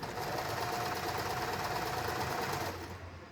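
An Usha Janome Marvela electric sewing machine stitches in a continuous fast, even whir for under three seconds, then winds down and stops.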